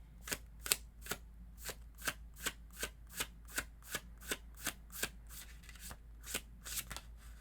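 Tarot cards are shuffled by hand in a steady run of about sixteen crisp, evenly spaced riffling snaps, close and fairly quiet, with no talking.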